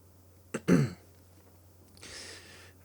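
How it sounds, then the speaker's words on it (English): A person clears their throat once, a short rough rasp close by, followed by a soft hiss in an otherwise quiet room. "It's clearing my throat there"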